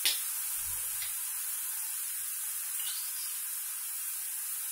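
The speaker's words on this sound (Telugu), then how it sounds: "మనకి ఆనియన్ పేస్ట్ వేగుతుంది." Washed onion paste frying in a pan, giving a steady, bright sizzle that runs the whole time, with a few soft low bumps early on and no voices.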